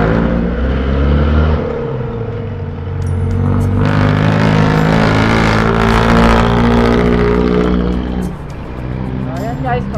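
Loud, steady engine rumble of a vehicle on the road, droning continuously with a brief swell midway, talk faintly mixed underneath.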